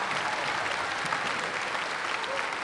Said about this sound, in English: Please give yourself a round of applause for that.